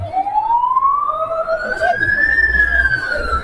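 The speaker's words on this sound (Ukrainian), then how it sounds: "під'їжджає поліція" Police car siren approaching during a street rally, its rising wail sweeping upward and growing louder over steady crowd and traffic noise.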